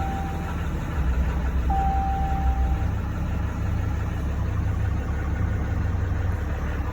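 A 2014 RAM 2500 pickup truck engine idling with a steady low rumble, a deeper engine note taking over partway through and a brief electronic chime tone early on.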